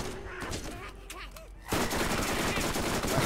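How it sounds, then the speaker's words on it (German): Gunfire rattles in the Borderlands shooter game, with scattered shots at first and then a dense, continuous barrage of loud automatic fire, while someone speaks over part of it. "Ich werde abgeschossen."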